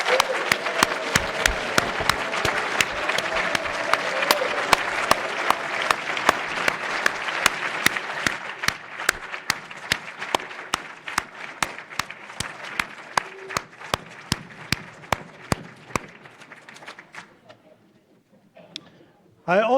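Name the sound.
audience applause for families and friends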